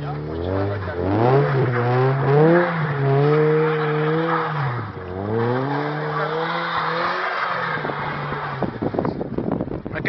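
A car struggles to pull away on ice, engine revving in rising and falling surges as the wheels spin and squeal for several seconds, with people talking nearby.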